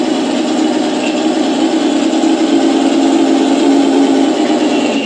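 A toy tank's electric motor drives along with a smooth, continuous whirring drone, steady and close, with a slight rise in pitch partway through and no speech.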